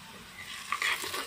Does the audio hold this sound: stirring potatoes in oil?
yes